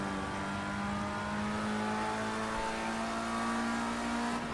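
Race car engine in Project Cars 2 on a flying lap, a continuous, steady high-pitched drone with a slight rise in revs, alone and without talk.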